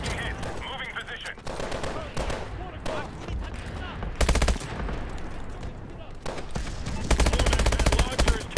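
Rapid automatic gunfire and heavy weapon blasts ring out in a Call of Duty Advanced Warfare combat mission, with bursts of machine-gun fire and louder explosive cracks coming in waves, the loudest volleys near the middle and end, with short pauses between.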